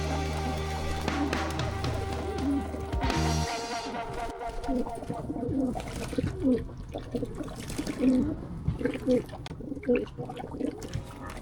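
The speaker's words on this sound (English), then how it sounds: "We're just going to sit here and listen to and enjoy watching these birds take a bath." Racing pigeons splash about while bathing in water, with steady trickling and dribbling sounds and soft cooing mixed in, all close by and continuous.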